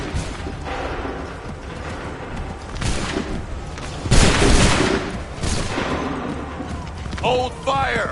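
Bursts of blaster and gunfire from the Star Wars Outlaws video game crackle in rough volleys, the heaviest around the middle, with mechanical clanks and game voices mixed in.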